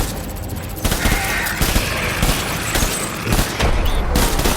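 Rapid gunfire bursts crackle and boom through a loud, dense battle soundscape in the Death Stranding video game, with shots overlapping in a continuous barrage.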